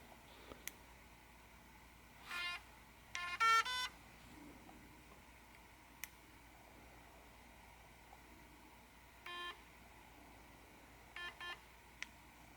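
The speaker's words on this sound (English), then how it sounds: "That was 2 beeps." Short electronic beep bursts from a Philips Sonicare 4100 electric toothbrush, a pair around two to four seconds and another pair near eleven seconds, over faint background hiss with a few clicks.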